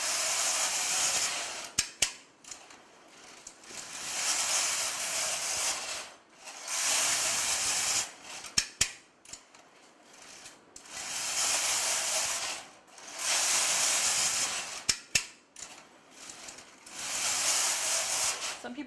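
A hacked knitting machine knits rows, its carriage sweeping back and forth in repeated hissing, rattling passes of about two seconds each, separated by brief pauses and sharp clicks.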